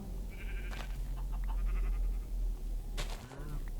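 A couple of Minecraft sheep bleats sound over a steady low hum, one early and one near the end, fairly quiet.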